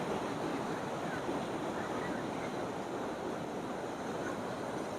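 Saran river water rushing on both sides of a road in the Saran Valley, Mansehra, a dense, steady broadband roar that never lets up, loud and close.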